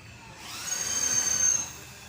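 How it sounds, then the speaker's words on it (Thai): A power drill drives screws into wooden floorboards during floor laying, a steady high whine that rises and fades over about two seconds, fairly quiet and alone. "แล้วก็เจาะน็อตลงไปนะครับ ให้แน่น"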